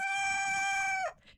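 A rooster, one of several kept in a backyard coop, lets out a single loud crow, a long sustained call that drops off sharply at the end, followed by a faint trailing note, with no voices present.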